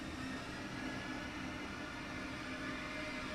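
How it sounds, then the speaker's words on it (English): A Class 411 ICE-T long-distance train runs in Train Sim World 6 near Frankfurt Hbf, giving a steady, dense rolling roar with a faint whine, continuous and close with no pauses or talking. "one of the long-distance trains in the Frankfurt timetable, the Class 411"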